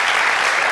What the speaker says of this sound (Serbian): Bravo za Jecu, molim se, velika aplauz